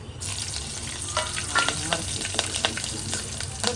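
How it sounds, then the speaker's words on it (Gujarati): Spices and chillies sizzling in hot oil on low heat for tempering: a close, continuous sizzle with sharp spattering crackles and pops throughout. "હવે ધીમા ગેસે આપણે વઘાર કરી નાખશું"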